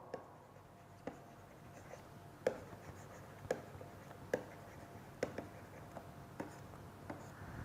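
Chalk or marker strokes on a board during a physics lecture, a series of short, sharp taps and scrapes spaced about a second apart, faint and close with no talking over them.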